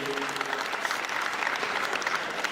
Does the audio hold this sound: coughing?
no